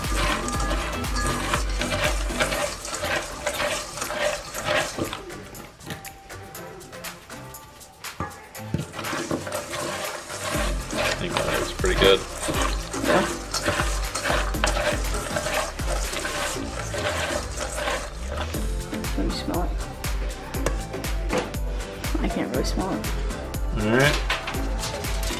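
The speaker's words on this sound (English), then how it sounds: "You're gonna mix that in until everything's coated to your liking" Pumpkin seeds being mixed with barbecue seasoning make a continuous run of close, dry rattles and scraping clicks, with a brief quieter lull partway through.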